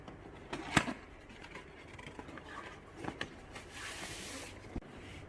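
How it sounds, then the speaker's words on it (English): Cardboard packaging of a Fluke 376FC clamp meter being opened: scattered rubbing and scraping, a couple of sharp close knocks and a longer papery rustle, fairly quiet with no talking. "Now we are opening the box."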